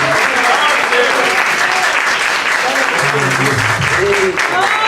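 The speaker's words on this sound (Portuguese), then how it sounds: "Uma salva de palmas para nós." A church congregation applauds loudly and continuously, dense clapping filling the room while voices speak and sing over it.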